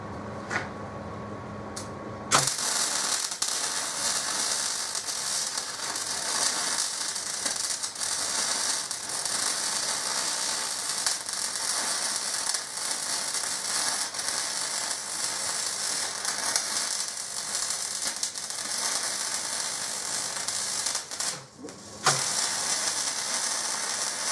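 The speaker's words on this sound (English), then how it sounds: "The end is welded in." The end piece of a tractor is welded in with a steady, close crackling hiss that runs continuously, with a short break near the start and a brief dip near the end.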